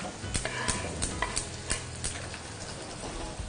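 Onions and garlic sautéing in sunflower oil, a continuous close sizzle with repeated sharp stirring scrapes at an irregular rhythm, no talk.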